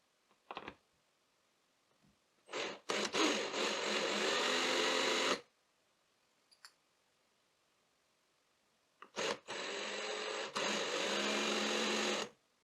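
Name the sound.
power drill drilling holes in ends of wooden rods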